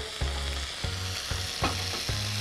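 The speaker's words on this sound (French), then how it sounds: "je vais arroser le poisson dans la poêle" Sea bass fillet basting in a frying pan: a loud, bright sizzle with a few rhythmic bursts as hot fat is spooned over, about five quick splashes in close succession, no voices.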